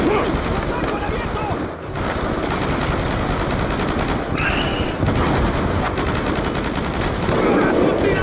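Dense, continuous gunfire from a Call of Duty campaign battle, rapid automatic bursts with sniper shots mixed in, loud and busy throughout with brief lulls and a voice speaking over parts of it.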